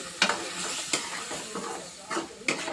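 Prawn thokku with curry leaves and coriander bubbles in a pan, a faint simmering hiss broken by several soft stirring scrapes at irregular intervals.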